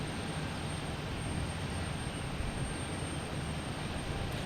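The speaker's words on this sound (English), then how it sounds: "We have JetBlue and E190 coming in from Pittsburgh" Constant broadband rumble and hiss of a JetBlue Embraer E190 airliner arriving at Boston Logan Airport, steady and moderately distant, with a thin high whine riding on top and no voices.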